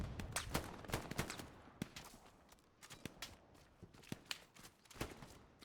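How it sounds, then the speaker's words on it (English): Gunfire in the video game Hell Let Loose, including the M1 Garand rifle's ping, on Utah Beach in a competitive match: a run of sharp, scattered shots and cracks at varying distances, some loud and close, others fainter, with no talk. "Lovely little ting of the M1 Garand there."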